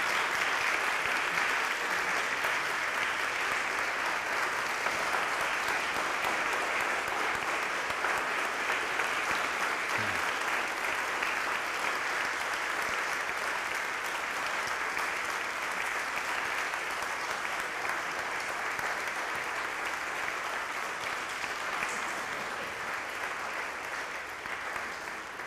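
A church congregation applauds at length during a Sunday service, a steady, dense wash of clapping that holds for the whole stretch and thins slightly toward the end.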